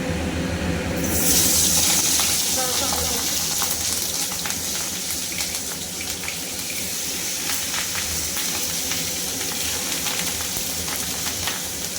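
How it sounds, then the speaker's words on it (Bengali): Hilsa fish paturi fries in a pan, giving a loud, steady, crackling sizzle that starts abruptly and continues close by throughout. "এবার ভাজবো"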